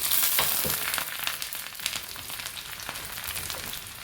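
Onions frying in hot oil with mustard seeds for a gooseberry curd curry, giving a loud, steady sizzle with crackle and faint stirring, close up and alone.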